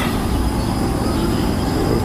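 Tram number 3 passing a city tram stop in Bratislava, Slovakia, a loud continuous rail rumble with steady wheel noise filling the whole stretch, close by.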